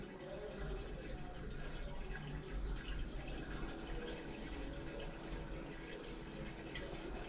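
Steady broadband rush of hot running water flowing down a kitchen sink drain, continuous and fairly loud throughout with no talking.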